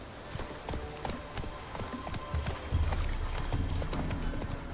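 Hooves of the horse Roach clop rhythmically on the ground in The Witcher 3, a steady galloping patter that grows heavier and louder toward the end, with no speech.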